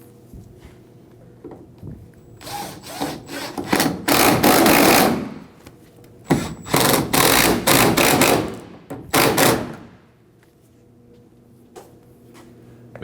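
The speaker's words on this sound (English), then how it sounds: "Now we can go ahead and install our screws." Screws being driven in while fitting a replacement tail light on a 2009-2014 Ford F-150, heard as two bursts of loud, rapid rattling clicks a few seconds apart, close by with no talk.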